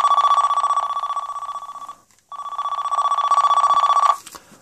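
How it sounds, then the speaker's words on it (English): An old Motorola 6800x analogue transportable cellphone's trilling electronic ringtone rings in two long bursts with a short pause between, then stops abruptly with a click. "you could change the volume of the ringtone"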